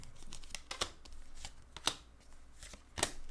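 Tarot cards are shuffled by hand in quick, crisp riffling bursts and soft slaps, close and fairly quiet, with no talking.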